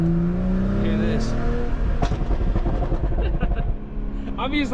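A 500 hp stage 2 BMW M340 revs up and down close by as it downshifts, its engine pitch rising and falling among crackling pops over constant road roar.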